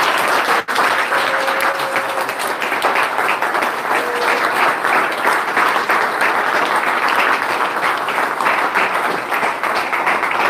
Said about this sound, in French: applaudissons pour notre Seigneur.